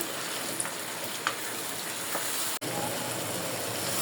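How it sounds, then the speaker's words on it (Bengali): Spice paste for rohu fish kalia frying in a pan, a loud, dense, continuous sizzle close up with a few soft stirring touches and one brief break. "আরও তিন চার মিনিটের মতো কষায় নেব মশলাটা"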